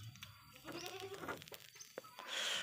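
Male sheep bleating on a goat and sheep farm, several wavering bleats at moderate distance with shuffling and barn noise between them, one louder bleat closing the moment.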